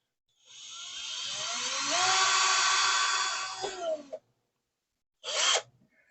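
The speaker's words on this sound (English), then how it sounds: "we got to drill a 3mm hole" A small high-pitched drill whines steadily for several seconds boring a 3mm hole in a model spaceship part, its pitch shifting slightly under load, then stops; after a pause it gives one short burst.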